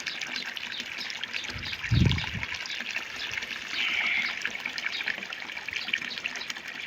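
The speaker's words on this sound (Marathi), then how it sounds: "कळशी भरून ठेवतो" A steady stream of tap water pours into a metal kalshi, a close continuous trickling gush with one brief low thump partway through and no talking.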